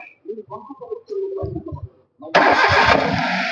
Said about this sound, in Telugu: ఒకసారి అయితే స్టార్ట్ చేసి చూపిస్తా చూడండి. బండి అయితే స్టార్ట్ చేస్తున్నారండి.